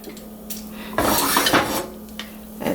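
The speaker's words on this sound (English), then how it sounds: "now I'm gonna open up my slow cooker" A slow cooker is opened while making pumpkin soup: the lid and pot clatter in a sharp burst of metal-on-ceramic knocks, with a few lighter clinks before and after, close by.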